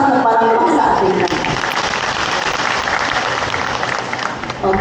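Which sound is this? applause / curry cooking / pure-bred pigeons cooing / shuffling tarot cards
applause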